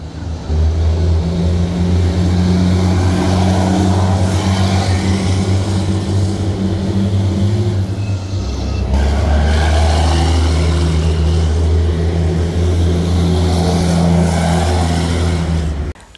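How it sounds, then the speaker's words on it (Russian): A group of Bumerang infantry fighting vehicles passes in a Moscow Victory Day parade, with loud, continuous heavy engine drone and mechanical roar that shifts in pitch midway as the vehicles roll by. "И завершает парадную колонну группа боевых машин пехоты «Бумеранг»"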